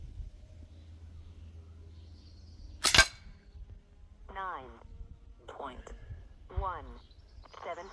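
A Sig MCX Rattler Cranebrake PCP air rifle in .177 fires a single BSA Greenstar pellet at a 20 m range, giving one sharp, loud crack, followed by someone speaking nearby.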